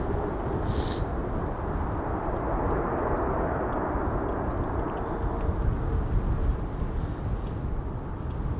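Airliners arriving at Amsterdam Schiphol Airport on a windy day make a continuous broad jet roar, steady and moderately loud, with wind noise mixed in.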